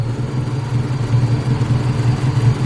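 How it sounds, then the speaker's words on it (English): A car engine idles rough with a misfire during fuel and ignition troubleshooting, giving a close, steady low rumble with an uneven, lumpy pulse and no talking. "it's running, it's idling really rough"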